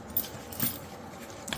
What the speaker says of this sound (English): I want to get rid of the zippers because they do make a rattle on